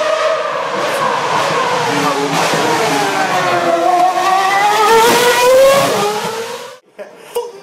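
A historic racing car with a 2.4 litre engine at the Copenhagen Historic Grand Prix screams past loudly and close, its engine note rising and falling through gear changes before cutting away abruptly, with faint sounds afterward.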